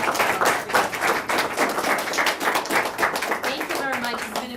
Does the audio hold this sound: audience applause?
yes